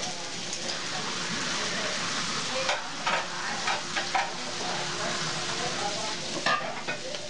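Food sizzles and crackles steadily in a hot pan, with occasional stirring and scraping sounds and faint voices in the background.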